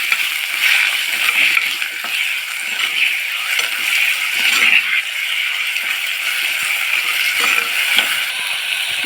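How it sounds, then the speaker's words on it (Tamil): Aloe vera sautés with onion and garlic in a pan, giving a steady, fairly loud sizzle and crackle that runs throughout with small pops and stirring scrapes, no voices. "வெங்காயம் பூண்டு வதங்கின உடனே நம்ம வந்து இந்த கத்தாழி இதில் சேர்த்து இதையும் வதக்கிக்கலாம்."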